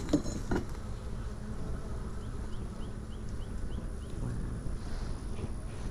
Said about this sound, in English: There's a black bee.